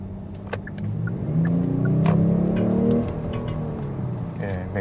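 A 2021 Kia K9 3.8 AWD large sedan accelerates with its active sound generator, giving a steady, rising engine drone heard from inside the cabin, swelling mid-clip and then easing back.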